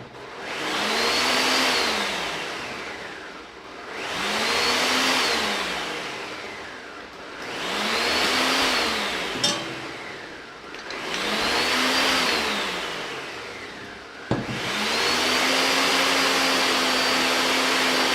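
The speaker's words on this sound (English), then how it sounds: "Then you just put it in the blender." Kitchen blender whirring through almond milk and dates in repeated surges, each whine rising and falling in pitch, close and loud, with a couple of sharp clicks between pulses before a final steady run.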